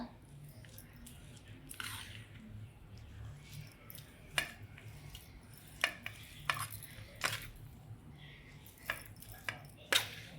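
Spiced dal filling being mixed with kasuri methi in a pan, faint scraping and sharp clicks of a spoon against metal at an uneven pace, quiet and close.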